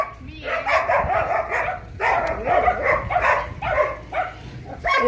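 A dog barks in loud, repeated bursts close by in a farmyard near a young bull calf, with short yips between barks and a voice faintly present.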